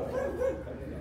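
Several dogs bark and yip near the Cheung Chau temple, a run of close, moderately loud barks with whimpering tones over outdoor background noise.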